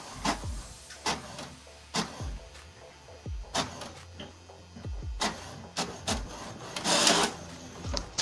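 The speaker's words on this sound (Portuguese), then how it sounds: "ele já puxou a folha ali e começou a imprimir agora" An HP 2676 inkjet printer feeds a sheet of paper and prints, giving repeated mechanical clicks, whirs and short carriage buzzes in an irregular rhythm, close and fairly loud with no voices.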